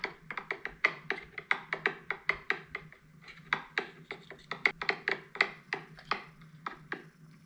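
Close, dry wooden taps and scrapes in a steady, fairly even rhythm, each hit sharp and distinct, with nothing else in the background.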